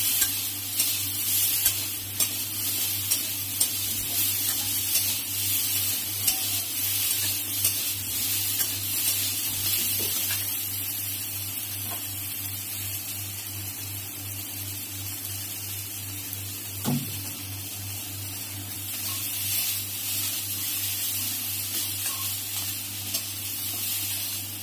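Fish curry ingredients fry in a pan while being stirred. A continuous soft sizzle runs throughout, with occasional scrapes of the spoon over a steady low hum, and no one speaks.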